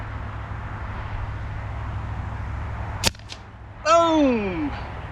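A single sharp air gun shot cracks out at a target during outdoor shooting practice, standing alone as a brief loud crack, followed by a quick faint echo or impact and then a tonal descending whine.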